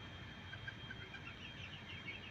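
Faint clucking of a native chicken kept on a rooftop, over a steady background hum, soft and somewhat distant.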